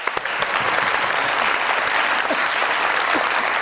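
A studio audience on a Pakistani comedy talk show claps for two guests, a dense, steady burst of applause that carries on without pause.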